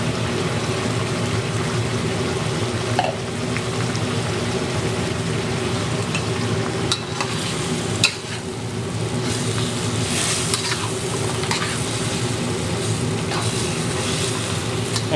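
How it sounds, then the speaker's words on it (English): Chicken in black bean sauce, cooked restaurant-style in a stir fry, keeps up a steady, loud sizzle and bubbling after extra water goes into the pan, with a few faint clinks over the constant frying. "So I'm going to add a little bit more water to it."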